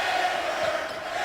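A basketball arena crowd in Morgantown serenades a player with a sustained, chanting roar that fills the whole moment, steady and loud with no single voice standing out.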